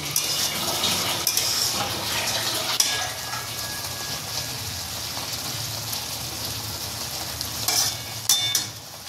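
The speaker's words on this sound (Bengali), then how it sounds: "মাছগুলো দিয়ে মশলার মধ্যে কষাতে থাকছি" Pabda fish sautéing in a pan of mustard paste masala, a steady close sizzle and frying hiss with soft stirring scrapes throughout and a couple of brief louder knocks near the end.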